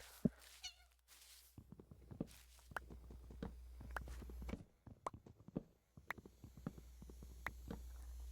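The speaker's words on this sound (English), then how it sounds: "I'm gonna be very surprised if her meows and purrs and attention seeking doesn't get picked up on the microphone." A domestic cat meows in short, faint calls, close by in a quiet room, mixed with soft shuffling and small movement noises.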